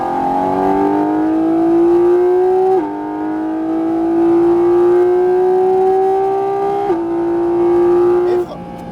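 A Porsche 718 GT4 RS pulls hard at full throttle on the Fontenay-le-Comte circuit, its engine note rising loud and steady with two quick upshifts that briefly drop the pitch before it climbs again.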